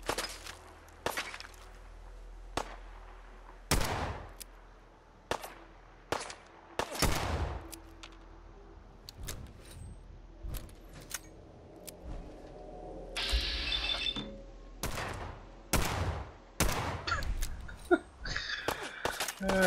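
Gunfire aimed at bats in Fallout 4: a few sharp, loud shots spaced out over the span, each standing alone against quiet game ambience with faint footsteps and mechanical clicks between them.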